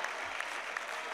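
An audience at a poetry mushaira applauds in a brief, steady patter of clapping from a crowd, heard alone for about a second.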